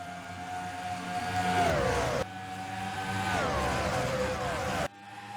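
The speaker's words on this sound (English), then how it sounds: "The buzzing of those cars as they go almost 200 miles per hour down the back stretch and front stretch" Race cars in an oval racing game at Homestead, screaming past at close to 200 mph in two rising-and-falling passes, loud and steady with a faint voice underneath.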